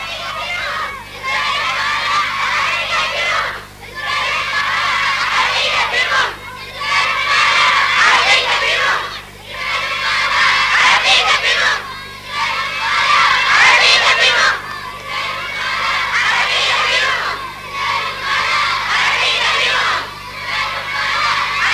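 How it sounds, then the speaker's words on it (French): Schoolchildren led by their teachers march through the streets of an island school town in a demonstration, and their shouting crowd voices rise and fall in loud rhythmic bursts of chanting and cheering, with only brief dips between them. "les enfants, conduits par leurs professeurs, défilent dans les rues de l'île-école pour manifester leur désapprobation envers Israël et crier leur soutien aux Libyens"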